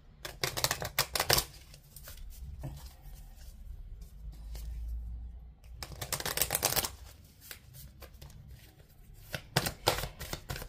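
Oracle cards being shuffled and drawn for a reading: crisp riffling bursts at the start and again midway, with softer card handling, taps and slides in between, close and fairly quiet.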